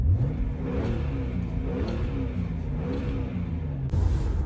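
A Subaru sport utility wagon's engine revs steadily on a test run, a loud close mid-pitched drone rising and holding with no talk over it.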